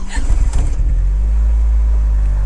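Opel Speedster engine started by push button, a brief cranking burst settling at once into a steady, loud, low idle drone that holds to the end.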